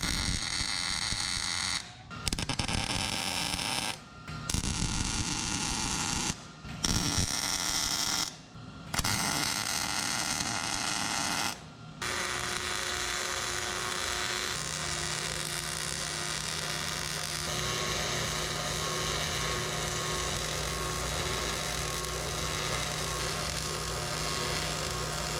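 Welding on a part of a 1976 GMC truck during an overhaul, a steady buzzing electric hum broken by several short pauses early on, then continuing unbroken alongside a lower drone, close and fairly loud, with no talking.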